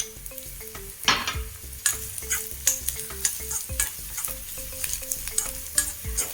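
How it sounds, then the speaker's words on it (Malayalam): Chopped onion sautés in a pan for a Kerala-style fish pickle, giving a steady sizzle broken by repeated scraping and clinking stirs of a spoon against the metal, close and fairly loud. "നമ്മളൊരു സവാള ചെറുതായി അരിഞ്ഞത് ചേർത്തിട്ട് നന്നായിട്ട് വഴറ്റിയെടുക്കുക"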